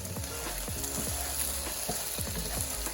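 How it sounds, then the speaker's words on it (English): Okra frying uncovered over medium-high heat in a pan gives a steady, close sizzle with crackling throughout, broken by faint scraping knocks. "Now fry uncovered for 5 to 7 minutes"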